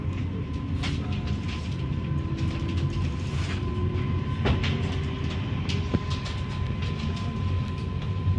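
A Czech regional passenger train pulling out of Čemelice station, heard from inside the carriage: a steady rolling rumble with rhythmic clickety-clack of wheels over rail joints and occasional sharp clanks, moderately loud.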